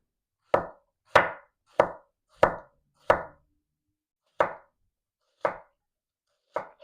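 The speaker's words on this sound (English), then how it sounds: "You go across, you mince your onions." A knife chops onions on a cutting board, with eight crisp, separate thunks: five in quick even succession, then three more spaced farther apart, close and clear against silence.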